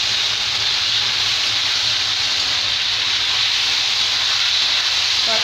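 Tomatoes hit hot ginger garlic paste for a small fish curry, and a loud, continuous sizzle and hiss rises from the pan with no pauses.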